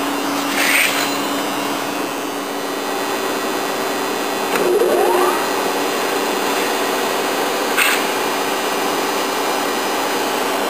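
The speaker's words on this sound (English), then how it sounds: "We just heard the grinding wheel start up as well as the four jaw chuck workhead engage." A surface grinding machine runs with a steady whirring hum as its grinding wheel spins up, with a brief rising whine and a couple of short clicks as the four-jaw chuck workhead engages, close and continuous, with no talking.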